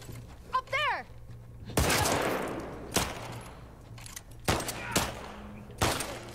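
Gunfire in The Last of Us Part II: several loud, sharp shots ring out in separated bursts with reverberant tails, and a voice briefly speaks near the start.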